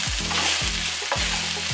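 Fish pieces fry in a pan over sautéed aromatics, a constant close sizzle broken by three rhythmic scraping sweeps as a spoon stirs them around, no voices.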